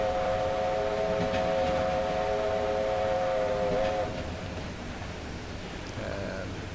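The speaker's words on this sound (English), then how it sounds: "These locos also come with a second whistle on them, which is activated using the bell function." A steam locomotive's second whistle in a train simulator game sounds as a sustained, steady multi-tone blast for about four seconds, then cuts off, leaving the rumbling train running beneath.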